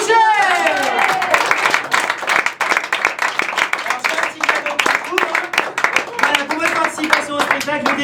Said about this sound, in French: On va aussi l'applaudir pour leur participation dans le spectacle